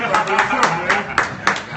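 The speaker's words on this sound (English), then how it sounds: "Oh, I'm supposed to clap for You myself." One person claps a few times, sharp separate slaps spaced unevenly at a live hip-hop show, with talking over them.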